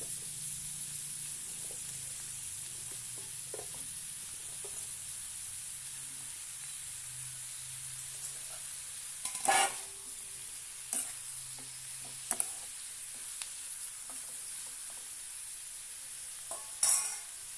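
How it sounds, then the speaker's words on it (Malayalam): Drumstick pieces going into a curry in a pan give a soft, steady sizzle, with a few sharp clatters and scrapes as they are stirred in. "നമ്മൾ മുരിങ്ങയ്ക്ക ഇവിടെ ചേർത്ത് കൊടുക്കാം."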